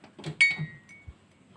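A short clink of a drinking glass being picked up, a bright ringing tap with a brief tail, followed by a soft dull knock.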